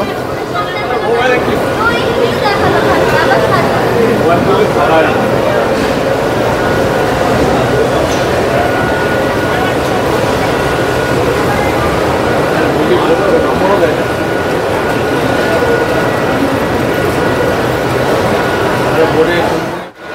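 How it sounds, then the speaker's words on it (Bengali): The Maa Tara Express, running Sealdah to Rampurhat, pulls into a station with a loud, continuous rumble and hiss of rolling coaches, heard up close alongside platform crowd babble and a person speaking. "এই যে আমাদের কিন্তু মা তারা এক্সপ্রেস এখন ঢুকে গেল।"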